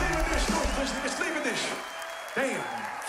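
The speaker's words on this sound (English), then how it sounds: "Give me a sense of your applause, my friend." Metal festival crowd applauding and cheering at an open-air show, a broad roar of the audience under a shouting voice that fades briefly before rising again.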